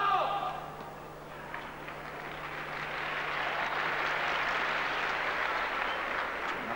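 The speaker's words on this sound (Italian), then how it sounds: "Applauso quasi di sollievo del pubblico per questa palla di Volkov che era vicina alla riga." Spectators at a men's ATP tennis final in Milan break into applause after a ball lands near the line; a voice fades out and clapping swells into a steady, moderately distant ovation.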